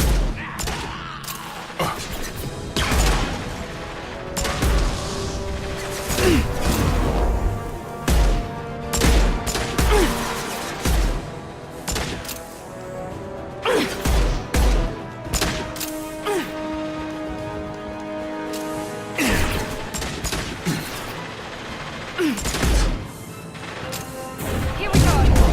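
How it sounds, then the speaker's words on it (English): Dense, continuous gunfire and blasts from a sci-fi shooter firefight in Mass Effect 2 on Omega, with rapid volleys, heavy impacts and booms layered throughout, and occasional shouted combat voices mixed in. "Taking heavy fire!"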